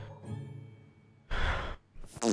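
Cartoonish fart noises in South Park: The Stick of Truth, two short broadband bursts after a quieter stretch of game sound, the second cut off at the end.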